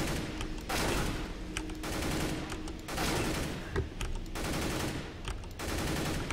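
Bursts of M4A4 rifle gunfire from a video game weapons mod, firing in rapid automatic volleys separated by short pauses, loud and close with no talk.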